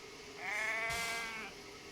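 Sheep bleat once in a wavering, quavering call lasting about a second, fairly close and clear over a faint low background rumble.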